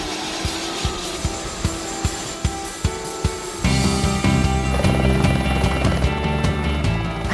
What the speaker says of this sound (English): You guys are going on a helicopter ride over a volcano.